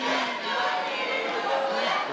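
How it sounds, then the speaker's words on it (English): A crowd at an Eternal MMA 70 fight roars and cheers steadily, a dense, loud wash of voices filling the arena with no clear break. "I hear the crowd rallying him on."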